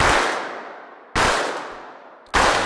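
Massive clap preset from the Keepforest Berserkr Pro trailer drum library: three huge, explosive clap hits, each with a long decaying noisy tail, roughly a second apart.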